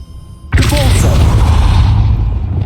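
A Depulso spell cast in the Hogwarts Legacy game lands as a sudden loud booming blast, followed by a roaring, rumbling wash that slowly fades out.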